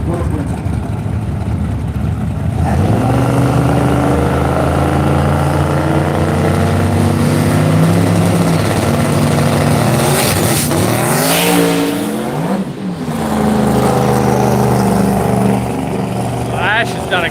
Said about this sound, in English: Ash has done a good pass in the RX-7.